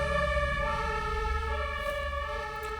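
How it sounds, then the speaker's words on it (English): A police car or ambulance siren passes outdoors, a loud steady wailing tone with strong harmonics over low traffic rumble, holding throughout. "let that police car or ambulance pass"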